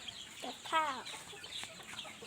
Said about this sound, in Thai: ไก่ชื่อกับข้าว